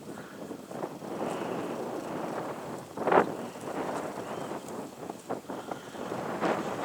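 Gusty Santa Ana wind buffets the microphone outdoors with low, uneven rumbling and occasional stronger bursts, fairly faint overall, with faint rustling and hoof sounds mixed in.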